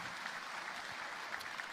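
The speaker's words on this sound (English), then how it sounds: "Let's give a round of applause to West Texas Rehab Hospice of San Angelo." Faint, steady round of applause from an audience at a Dancing With the San Angelo Stars event, honoring West Texas Rehab Hospice of San Angelo, a soft, even wash of distant clapping.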